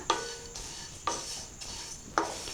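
Flattened rice (aval) being stirred and roasted in hot ghee in a pan, with a few scraping stir strokes at regular intervals over a soft steady sizzle.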